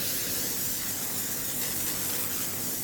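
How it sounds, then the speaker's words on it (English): Setting spray misted over a made-up face gives a steady, even hiss of fine spray lasting a few seconds, close and unbroken, with no talking. "Don't forget to set it with a setting spray, okay?"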